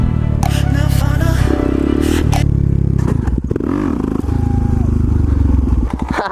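During a race between dirt bikes and a street bike, a motorcycle engine drones loudly with rough scraping and clattering bursts, pitch sweeping up and down as it revs, with people shouting over it.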